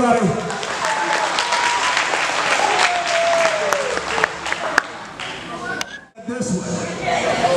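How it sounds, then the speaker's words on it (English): A banquet crowd at a Williamsburg County recreation event claps loudly and steadily, with voices calling out over the applause before it drops off abruptly near the end, followed by some brief shuffling. "Let's give them a round of applause, everybody."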